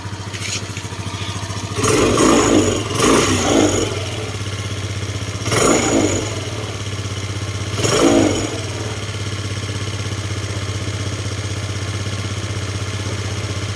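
A motorcycle engine idles steadily at a fairly high idle after misfiring, with several louder revs or bursts near two, three, five and a half and eight seconds over a constant low drone, close and loud, with no talk.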